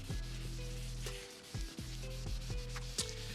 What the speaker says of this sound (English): Just want to really thoroughly give it a good 2000 grit sand all over the headlight again.